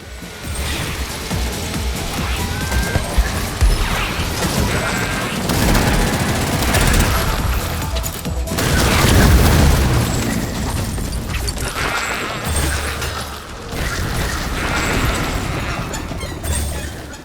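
Rapid bursts of gunfire and mechanical clatter, loud and continuous, with occasional heavier booms and reloading clicks in a busy game soundscape.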